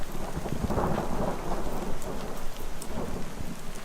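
A thunderstorm pours heavy rain, a dense steady hiss of drops striking surfaces with low thunder rumbling underneath throughout.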